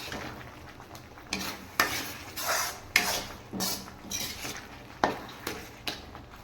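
A ladle scrapes and drags through thick milk sweet (pal gova) as it thickens in a pan, in regular strokes about once a second. Each stroke gives a close, moderately loud swish and scrape with no talking.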